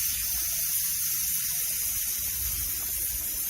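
Water blasts steadily out of a burst pipeline as a loud, continuous high hiss of spray, constant and unbroken, with a low rumble underneath and no voices.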